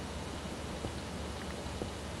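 Rain falling in Minecraft, a steady soft hiss of drops with faint scattered patters, even and continuous throughout with no voices.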